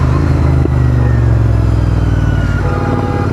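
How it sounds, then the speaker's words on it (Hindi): A motorcycle rides along on a road trip to Jim Corbett, its engine and exhaust droning loudly and steadily up close, with a sharp pop standing out early over the continuous rumble and wind. "और मेरा जो एग्जॉस्ट है पॉप पॉप कर रहा है।"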